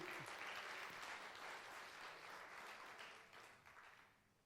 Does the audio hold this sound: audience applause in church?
yes